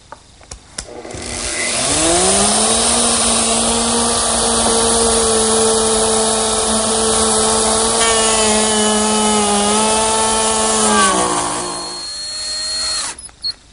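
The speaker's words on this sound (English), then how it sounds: "I'm going to continue using the 1/2-inch bit and plow out some material right in the middle" A wood router with a 1/2-inch bit plows out material for a dovetail. The motor spins up into a loud, steady high whine, holds through the cut, then winds down near the end.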